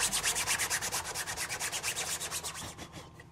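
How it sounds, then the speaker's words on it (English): A DA sander fitted with 80 grit scuffs the surface of a 3D-printed car body panel, making a close, rhythmic rubbing that pulses about eight times a second and fades near the end. "I got a little bit of 80 grit on my DA as well as my hand block, and I gotta scratch the surface up"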